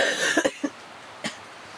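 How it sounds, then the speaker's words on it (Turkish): A few short coughs at a forest campsite, two close together then one more after a pause, fairly close and isolated with no talking. "ne zaman geçecek bu öksürük bilmiyorum"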